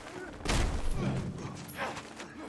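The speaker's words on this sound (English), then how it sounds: "My God, I forgot how loud that shotgun is" A shotgun blasts in the Mad Max video game: one heavy, close, booming discharge that rolls into a long, noisy tail, with a quieter thump near the end.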